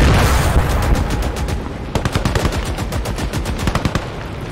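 Tank guns and machine guns fire in the video game Call to Arms Gates of Hell, a loud sustained battle of rapid, repeated gunshots with rhythmic bursts in the second half.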